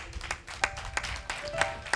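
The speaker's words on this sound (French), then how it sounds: "que je vous demande d'applaudir très fort s'il vous plaît." Audience at a Christian singing competition show applauding a jury member, a moderate scattering of claps with a few sharper individual hand strikes standing out, continuing briefly without speech.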